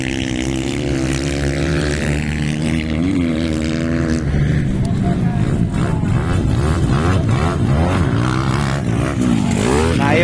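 A loud enduro racing motorcycle at a local race in Banga, South Cotabato, roars continuously with rising and falling engine pitch while an excited commentator talks over it.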